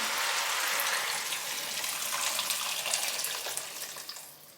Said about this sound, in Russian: Наливаю все кипятком.